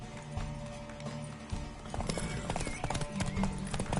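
Horse hooves clip-clop rhythmically in The Witcher 3 over a low rumbling background, fairly close, with a faint whinny-like texture mixed in.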